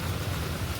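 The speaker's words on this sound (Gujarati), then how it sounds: "વરસાદ એમને યથાવત છે।" Rain falls steadily on a street in Surat, a brief, dense, even wash of noise.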